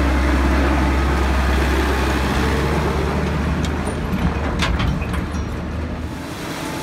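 A tractor pulls an empty trailer back to the field during a willow harvest for biomass, a loud steady low engine rumble with road and rattling noise that eases slightly toward the end.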